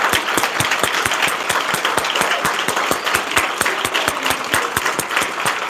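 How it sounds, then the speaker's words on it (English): Steady, even applause from a conference crowd at the closing session of DistrictCon 2025, sharp claps in a fairly regular rhythm, loud and continuous throughout with no voices standing out. "So please give a round of applause for integrity"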